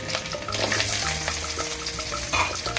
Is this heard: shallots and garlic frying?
yes